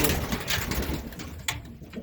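A cock pigeon cooing while sitting on two eggs in a loft of racing and show pigeons, with soft, repeated low coos close by over a steady murmur of other birds.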